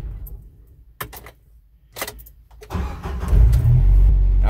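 A 1997 Jeep Wrangler TJ is shut off and restarted: a few clicks and brief starter noises, then the engine cranks and catches into a loud, rising idle, with no talk.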